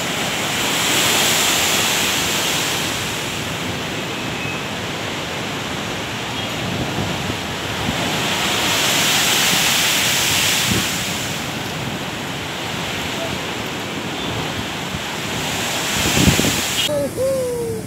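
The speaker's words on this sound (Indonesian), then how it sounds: "Ombak besar lagi." Big ocean waves surge and crash in extreme weather with high tide at Pulo Cinta and Mantos in Manado, a loud continuous roar of surf and wind rising and falling in swells, with a sharper splash near the end.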